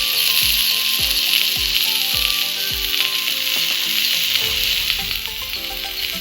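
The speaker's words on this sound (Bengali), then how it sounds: "পাতুরিগুলো আমার ভাজা হয়ে গেছে, এবার নামিয়ে নেব।" Banana blossom paturi sizzles in a frying pan, a steady bright hiss close by with a run of regular clicking knocks underneath.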